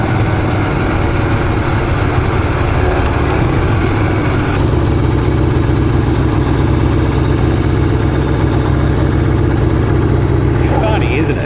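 A custom Harley-Davidson XR883 motorcycle runs with a loud, steady engine rumble that holds throughout, close and continuous under a speaking voice.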